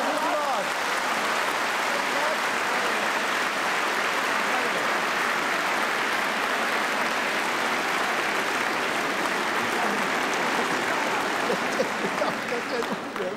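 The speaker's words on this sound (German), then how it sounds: "Sie hatten den größten Applaus bisher vom ganzen Abend." Sustained, dense applause from a live studio audience at the German TV entertainment show Wetten, dass..?, rolling steadily and loudly for over thirteen seconds with no break.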